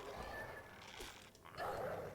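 A dog barks and yips in a Lord of the Rings flash web game, short barks over a busy game soundscape, moderately loud and close.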